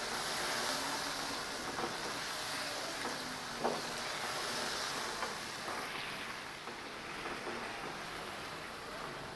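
Ginger garlic paste sizzles steadily in hot oil while cooking for a Karachi-style Shinwari karahi, giving a continuous, even hiss with a few small pops.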